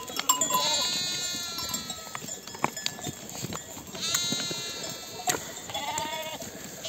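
A flock of sheep and lambs bleats repeatedly at a highland pasture, with overlapping calls near and far and faint clinking in between.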